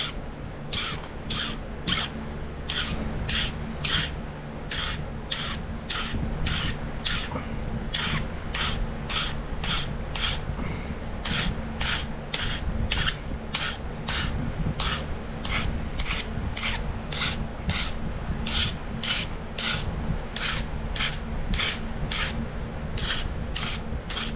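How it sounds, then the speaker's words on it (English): A pressure flaker for flint knapping being sharpened by rubbing it on an abrasive, a rapid, regular back-and-forth rasping of about two strokes per second, close and loud, with no talk. "I gotta sharpen my pressure flaker here."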